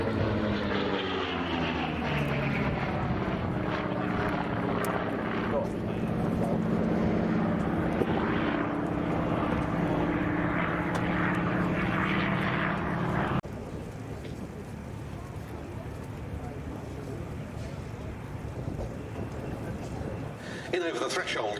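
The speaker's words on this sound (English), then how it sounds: "In over the threshold comes the Bearcat" Propeller drone of a Bearcat fighter flying past at an air show, a loud steady engine roar with a low tonal hum that drops away partway through, with a commentator talking over it.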